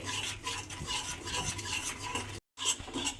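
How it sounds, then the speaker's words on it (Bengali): A spoon scrapes and stirs spice paste sautéing in a pan for potato curry, rhythmic close scraping strokes over a light sizzle, with a brief silent gap before stirring resumes. "খুব ভালোভাবে মশলাটা আমাকে কষাতে হবে"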